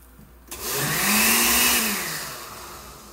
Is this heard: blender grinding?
yes